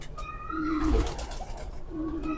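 Kasuri pigeons, a pair of brothers, give soft low coos, one stretch around the first second and another near the end, over faint background noise and a thin higher-pitched call.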